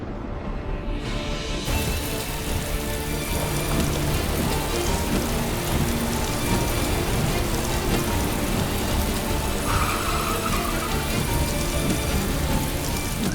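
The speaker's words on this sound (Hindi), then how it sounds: "ओले पड़ने शुरू हो गए हैं और आगे कुछ दिखाई नहीं दे रहा है" Hail falling on a car, a dense, loud, continuous drumming of stones on the roof and glass that stays steady throughout, heard from inside with no voices.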